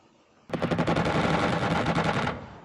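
A loud, rapid burst of aircraft machine-gun fire in the strategy game Xenonauts, a dense rattling stream of shots lasting almost two seconds after a sudden start, then stopping abruptly.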